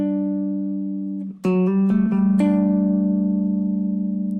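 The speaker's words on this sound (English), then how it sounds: "Nice suspended sound." A suspended chord on guitar rings out, fades, then is restruck with a few quick plucked notes and left to sustain, bright and near.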